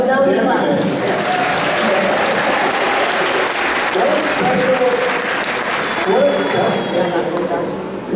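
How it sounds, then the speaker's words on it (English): A large crowd at a Vampire Diaries convention panel with three of the show's actors applauds continuously, loud and dense, with voices and cheering mixed in throughout. "Now we clap."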